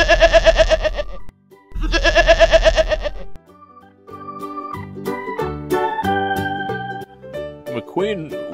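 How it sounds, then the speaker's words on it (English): A goat bleats twice in close succession, loud and wavering, each cry lasting over a second, followed by a cheerful music passage. "This is a goat."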